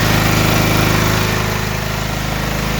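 A 5.5 kW gas-powered electric generator with a factory gearbox runs close by, giving a loud, steady engine drone with a fast pulsing throb and no voices.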